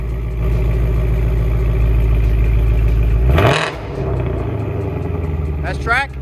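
Shelby GT500 with catless race pipes in track mode, its engine idling deep and loud before a sharp rev that sweeps up and falls away, followed by a second quicker blip near the end.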